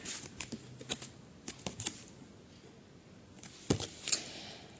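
Tarot cards cut and shuffled by hand, a run of soft, quiet riffling taps and flicks with a couple of sharper slaps near the end, close and alone with no talking.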